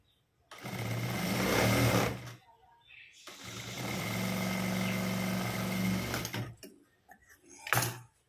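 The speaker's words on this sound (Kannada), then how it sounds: "ಅದಕ್ಕೆ ನಾನು ಸ್ಟಿಚ್ ಹಾಕ್ತಾಯಿದ್ದೀನಿ" A sewing machine stitches a potli button in two long bursts of whirring motor and needle rhythm, with a short pause between them and a brief final run after quieter handling sounds.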